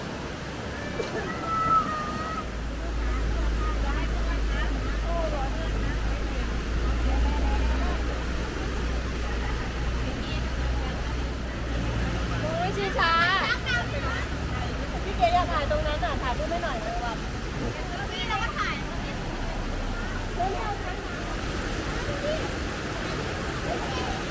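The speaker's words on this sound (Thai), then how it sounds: "น้ำค่อนข้างไหลแรงเลยนะคะ" A forest stream near Mon Chaem in Chiang Mai rushes strongly in a steady, loud wash, with people talking throughout over the water.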